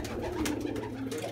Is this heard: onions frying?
no